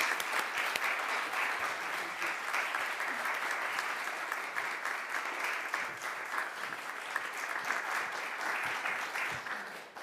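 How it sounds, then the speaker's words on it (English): A church congregation gives a warm round of applause to welcome its new minister: steady, moderately loud clapping from many hands, sustained throughout without letting up. "please give a warm round of applause to our new minister"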